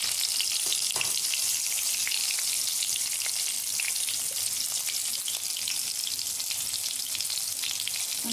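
Red chili frying in hot oil in a home kitchen, a dense, even sizzle and crackle that runs unbroken and close, with faint scattered pops and no talk.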